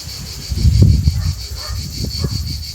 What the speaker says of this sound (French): J'aime trop les cigales.